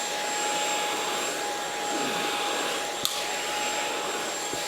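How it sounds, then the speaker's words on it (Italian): A Smart Ai V5 cordless vacuum cleaner running on a sofa, a steady high-pitched whine and airy rush with a constant tone, close and continuous, with one brief click partway through. "lui sta aspirando il nostro divano"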